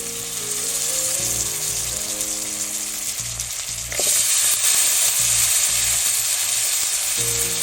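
Tomatoes cook in a pan with a steady loud sizzle and frying hiss that swells partway through, close by and continuous, with no talk.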